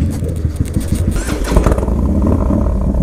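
A Harley-Davidson Softail Low Rider S motorcycle engine runs close and loud, a dense throbbing rumble that steadies into a continuous growl, with no talking over it.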